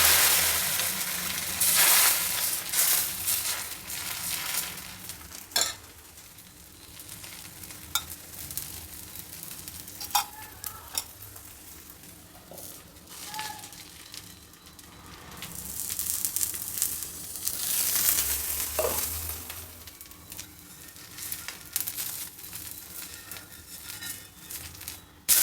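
Dosa batter for a quick oggarane dose sizzles and hisses on a hot pan, a steady close frying crackle that swells and fades over the clip with occasional stirring and rustling noises and no talk.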